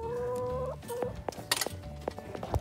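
Newly acquired backyard chickens cluck and call in a few short bursts, fairly close, with some scratching and brief movement noises between the calls.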